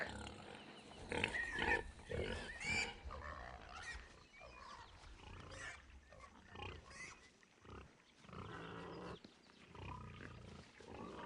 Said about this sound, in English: Are those pigs drunk?